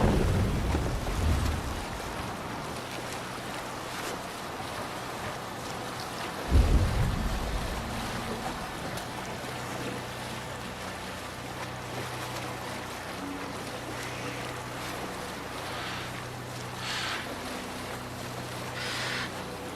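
Wooden sailing ship riding the waves in Assassin's Creed Valhalla, steady wash of water and wind with a low creaking hull, plus a brief thump near the start; no one speaks.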